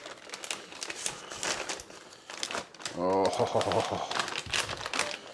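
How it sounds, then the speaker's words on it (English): Smoked corned beef brisket being unwrapped on a cutting board, with a run of crinkling, rustling wrap noises close by; a voice speaks briefly. "we have it on the cutting board, so we're gonna unwrap it"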